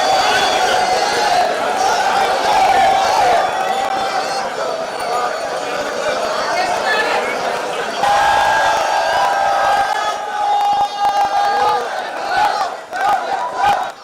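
A large crowd cheers and shouts with rising whoops at a temple flag-hoisting ceremony for the Thiruvambadi pooram festival, a loud sustained roar with a voice talking over it.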